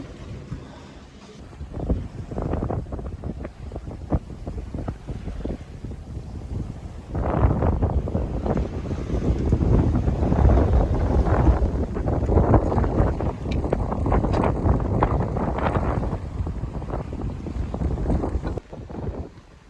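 Steady wind roars across the microphone on a sailboat running downwind at sea near Christmas Island, with waves rolling in from the side; a continuous loud rush that swells stronger after the first few seconds, with no voices.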